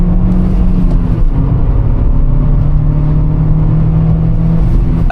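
Toyota Yaris engine revving hard as its wheels lose traction, a loud, steady droning roar with a sustained low hum running through the whole stretch, close by and without talk.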